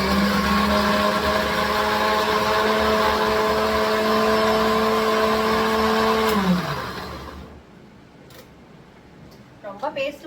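A kitchen mixer grinder churns onion and tomato for a fish curry, with a loud steady motor whine that winds down and stops, then quiet with faint clinks.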